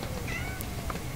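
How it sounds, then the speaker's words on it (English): A house cat gives a faint meow in a room during a recorded conversation, the brief cry nearly buried under steady background hiss. "That's our cat meowing on your tape"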